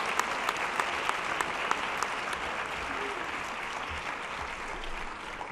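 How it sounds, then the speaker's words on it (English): Steady, moderately distant applause from a science fair audience for award winners, a dense wash of clapping with a few sharper claps standing out and a faint murmur of voices underneath. "Let's give them all a round of applause."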